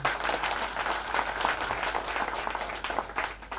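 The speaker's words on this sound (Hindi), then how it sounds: "तो उनके लिए एक बार जोरदार ताली हो जाए।" Applause from an audience at a company speech event in Odisha, a steady round of clapping at moderate level that carries through the whole stretch without a break, with no voices rising over it.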